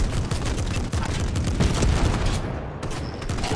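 Rapid gunfire in a Fortnite Zero Build squads match: dense, overlapping bursts of shots crackling loudly and continuously, close up.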